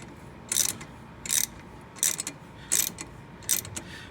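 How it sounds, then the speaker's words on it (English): A three-jaw puller is tightened on a Dodge 5.9L engine, with five evenly spaced ratcheting clicks that are close, crisp and alone. "Set my 3-jaw puller back up. We'll start tightening it again."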